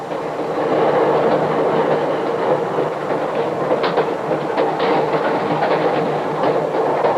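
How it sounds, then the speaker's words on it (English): A 1945 North Shore Line interurban electric train rolling toward Milwaukee streets, a steady loud rumble of wheels on rail with faint rhythmic clicks and rattles, no voices. "At Harrison Street, our train begins street running."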